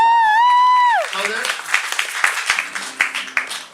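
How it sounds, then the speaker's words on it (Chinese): An audience at a live band concert gives scattered, uneven hand claps. A drawn-out vocal tone comes first, and a person talks briefly over the clapping. "拍手"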